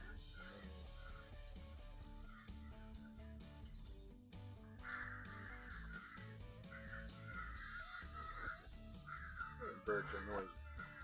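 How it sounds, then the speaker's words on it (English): Crows caw repeatedly outdoors beside a workshop where an engine is being rebuilt, their harsh calls rising over background noise while people talk. "Crows."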